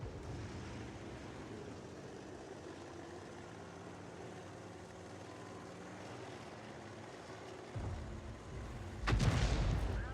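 An artillery shell from a GW Panther in World of Tanks is fired and strikes a tank: a low engine hum and ambient rumble run for several seconds, then a single loud, sharp boom lands near the end.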